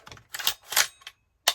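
Mechanical clicks from an AR rifle trigger being dry-fired during a safety function check, a few sharp close metallic snaps spaced irregularly with brief silence between them.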